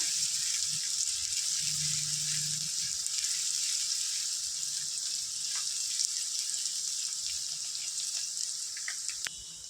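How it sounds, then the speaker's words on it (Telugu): Onions frying in a pan for a chicken curry give a steady, even sizzle that holds close and constant throughout, with no talking. "వీటిని ఒక లైట్ గోల్డెన్ బ్రౌన్ కలర్ వచ్చే వరకు ఆనియన్స్ని చక్కగా ఫ్రై చేసుకుందాం"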